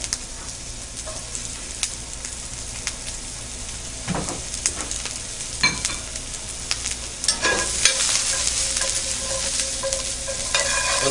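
Raw potatoes and red pearl onions frying in a pan for octopus pot pie, a steady close sizzle with stirring scrapes and occasional clatter, growing louder and more crackling toward the end, no talk.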